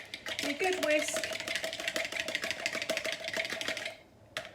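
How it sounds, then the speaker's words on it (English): Eggs whisked briskly in a jug for banana bread, a rapid, close, rattling series of taps and clicks that runs steadily before trailing off near the end, with a voice speaking over it. "And then you can give those a good whisk"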